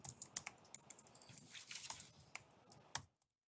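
Rapid, irregular clicking of keys on a computer keyboard during a meeting, close and fairly quiet, ending with one louder keystroke before silence.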